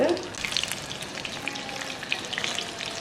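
Coated prawns fry in hot oil, a few at a time, giving a steady, close crackling sizzle with occasional sharper pops and no talk.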